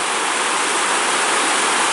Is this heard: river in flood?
yes